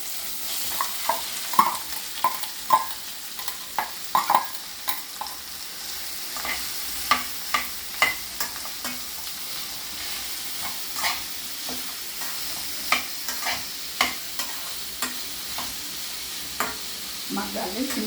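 Green chillies, curry leaves and onions frying in a pan, a steady sizzle broken by repeated scraping stirs at an uneven rhythm, close and fairly loud with no talking.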